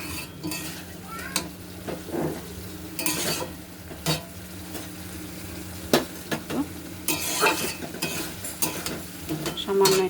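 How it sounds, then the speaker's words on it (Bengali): Spice masala with turmeric being stir-fried in a pan for a vegetarian pointed gourd and Gobindobhog rice dish, with repeated scraping strokes of a spatula and metallic clinks over a low continuous sizzle. "সামান্য একটু ঢাকা দিয়ে আমি মশলাটাকে কষিয়ে নিচ্ছি"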